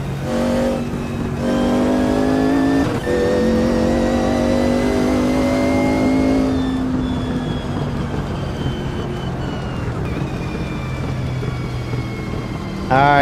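Race car engine in the sim racing game Automobilista 2, revving hard with rising and falling pitch through gear changes, loud and continuous with a voice talking over parts of it.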